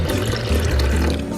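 Water poured from a measuring cup into a blender jar for a Trim Healthy Mama cuffin recipe, a steady continuous splashing fill that runs loud and close throughout without talk.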